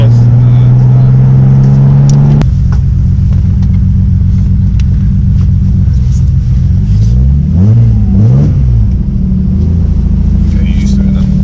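Alfa Romeo 145 with a 3.0 V6 engine, a loud, close idle rumble that drops suddenly, then revs rising and falling twice in quick blips, with people talking nearby.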